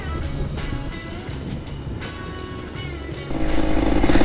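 A Yamaha RX 100 cafe racer motorcycle runs nearby, its engine a steady burbling drone that swells louder near the end, with faint background noise and no clear talk.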